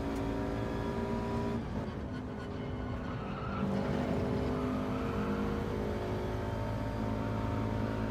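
A Subaru racing in Gran Turismo 7, its engine holding a steady droning tone with layered harmonics, loud and continuous, with faint tire noise and a brief dip midway.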